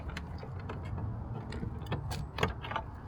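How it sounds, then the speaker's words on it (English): A screwdriver pries C-clips off a car part, producing several faint metallic clicks and small snaps over low background rumble, close and quiet, without speech. "just going to pop off these C-clips"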